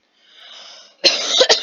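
After a faint breathy lead-in, a man coughs twice while playing a shooter game: a loud harsh burst and then a quick second one, close to the mic.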